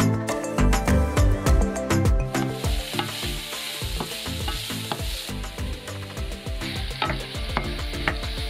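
Eringi mushrooms scraped into filaments fry and sizzle in a pan. A utensil stirs and taps in quick, uneven strokes over a steady crackle, close and clear, with no talking.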